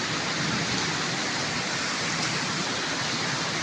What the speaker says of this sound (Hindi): बारिश तूफानी बेहद है जी